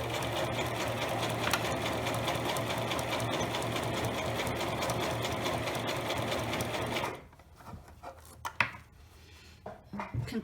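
A sewing machine stitches and back-stitches fabric for an eyeglasses pouch, running steadily for about seven seconds before stopping, followed by a few soft handling clicks and rustles.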